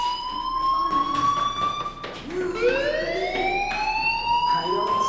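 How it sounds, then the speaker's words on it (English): A fire alarm rings in the video game Life Is Strange, its steady high tones holding and then rising in pitch partway through, loud and continuous. "Hey, do you hear that fire alarm?"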